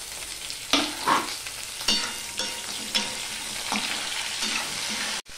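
Potatoes frying with flat beans and green chillies in a pan, a steady sizzle broken by repeated scraping stirs at a close, even pace, with no talking.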